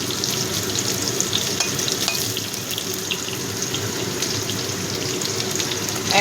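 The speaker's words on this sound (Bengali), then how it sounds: "এই কুমড়োটা দিয়েও একটু ভাজা ভাজা করে নেব।" Pumpkin pieces frying in a pan with potato, giving a loud, continuous close sizzle and hiss, with no voices.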